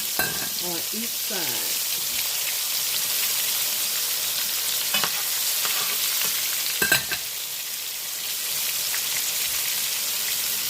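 Flour-coated country fried steaks sizzle and fry in hot oil in a pan on a stove turned up high, a steady dense crackle with a few louder pops, while a voice speaks briefly near the start.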